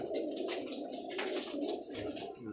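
Pigeons kept for sale coo in soft, rolling bursts, several birds overlapping at moderate distance with a light rustle of wings and no voices.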